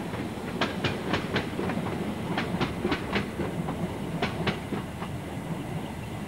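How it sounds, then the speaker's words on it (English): A train runs along railway tracks, its wheels giving a rhythmic clickety-clack of repeated clunks over a steady rumble, moderately close and continuous, with no voices. "The trains are still running and the power's still on."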